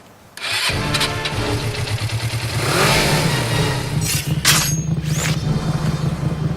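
A motorcycle engine cranks and catches, then runs loudly with a steady, throbbing idle and a couple of brief revs, close by.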